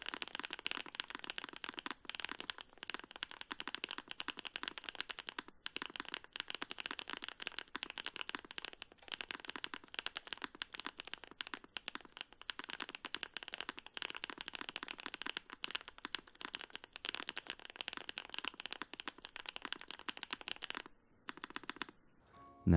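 Heavy tactile mechanical keyboard switches are typed on steadily for over twenty seconds, a dense, close stream of crisp clacks with no talking.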